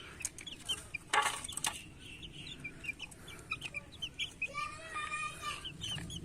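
Desi hens on a small backyard farm, clucking in short repeated bursts, fairly close, with a brief louder flurry early and a run of higher calls near the end; no talk.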